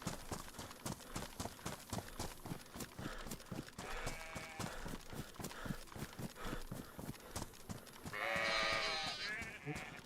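Sheep bleat in the survival video game DayZ over a rapid run of hoof clip-clops, with several bleats close and loud amid the galloping patter.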